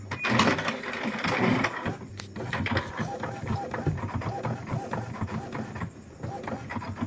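An Epson inkjet printer prints a nozzle check page after a head cleaning, giving a busy run of rhythmic mechanical clicks, whirs and carriage shuttling that holds at a steady, fairly close level for several seconds.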